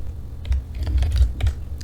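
Fingers type a short name on a computer keyboard in Photoshop, a quick burst of close, crisp key clicks in uneven rhythm, mostly alone with no talk.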